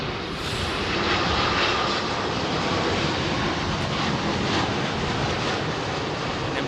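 Boeing 787 Dreamliner engines at London Heathrow, a loud, steady broadband jet roar that holds through the whole stretch with no talk.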